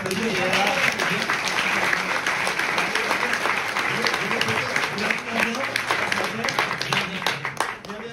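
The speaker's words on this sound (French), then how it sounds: "Et on peut l'applaudir." A film festival audience claps steadily throughout, dense continuous applause filling the room, with voices mixed faintly underneath.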